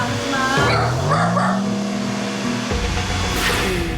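A Spitz dog barks inside a hair salon, a few sharp barks over a steady low drone, with a faint voice in the background.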